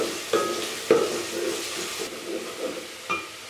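Chopped onions fry in a pan for aloo gosht, a soft steady sizzle with a few sharp stirring clatters near and moderately quiet, no talking.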